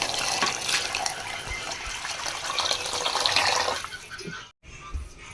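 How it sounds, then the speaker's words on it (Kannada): Water pours steadily into a cooking pot of rice and melted tomatoes with a rushing, gushing sound up close. It stops abruptly near the end, then a few faint clinks follow. "ಈಗ ನೀರು ಹಾಕೊಂಬಿಡೋದು"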